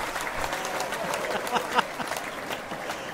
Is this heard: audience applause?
yes